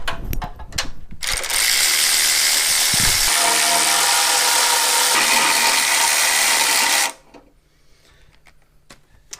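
A ratchet loosens 14 mm nuts on the intake of a 2008 Subaru Impreza during head gasket work, with a loud, rapid, unbroken run of close clicking for several seconds before it stops abruptly.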